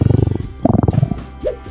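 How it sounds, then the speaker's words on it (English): A stomach growls in a quiet room, a loud close gurgling rumble that pulses in quick bursts, then rises into a short squeaky, whining creak near the end. "You know that awkward moment when your stomach growls in a silent room?"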